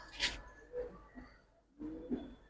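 Soft, low coos from large Giribaz pigeons, a few separate throaty calls spread across a couple of seconds in a quiet setting, with faint background noise.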